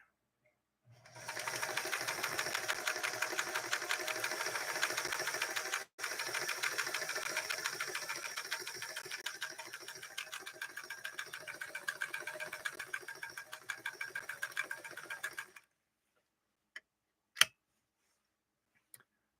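A Singer 328K sewing machine with a 0.9 amp motor stitches through layers of upholstery fabric, a loud, rapid mechanical whir and clatter running steadily for about fourteen seconds with one brief break, then stopping, followed by a few isolated clicks.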